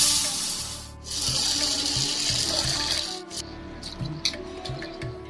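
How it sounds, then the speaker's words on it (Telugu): Sago pearls being rinsed in a bowl of water, with running, splashing water and soft sloshing as the pearls are stirred and swished by hand, fairly quiet and close. "ముందుగా బౌల్లోకి 1 కప్పు సగ్గుబియ్యం తీసుకొని శుభ్రం కడిగి"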